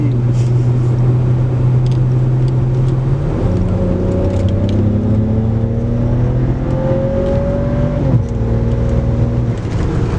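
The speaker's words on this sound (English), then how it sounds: "I wonder if we can do a burnout reverse" A BMW E36 revs hard during a reverse burnout, its engine note climbing in rising steps, loud and close with a rough droning whir throughout.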